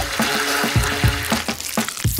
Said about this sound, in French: Et je vais bien tout fouetter.